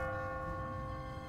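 A church bell tolls in The Walking Dead video game, a steady sustained ring with lingering overtones heard alone.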